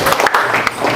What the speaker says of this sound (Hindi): तालियां हो जाए बच्चे के लिए